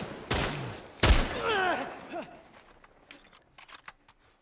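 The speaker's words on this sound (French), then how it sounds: "Qui me tire dessus?" Gunfire aimed at the player in The Last of Us Part I, two sharp loud shots close together followed by tinkling debris and scattered fainter clatters fading out.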